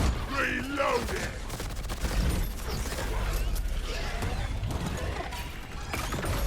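Weapon reloading in the video game Deep Rock Galactic Rogue Core, with mechanical clatter and clicks buried in dense game noise, rumbling gunfire and effects, with bits of voice underneath.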